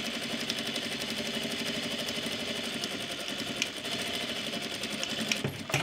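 Overlocker sewing machine running steadily as it stitches patchwork seams, a continuous close, fast mechanical whir with rapid rhythmic clatter and no voices.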